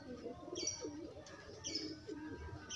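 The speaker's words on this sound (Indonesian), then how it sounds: "Oh, ini merpati yang ngorok nih" Snoring, congested breaths from an underweight pigeon suffering a cold, a low rough rattle pulsing in short bursts alongside faint high chirps, close up.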